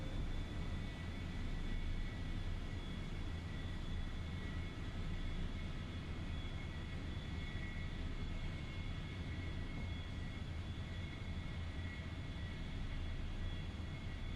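Steady airplane engine drone from a flight simulator game with the throttle pulled back, a continuous low rumble with a faint whine above it, holding level and unbroken throughout.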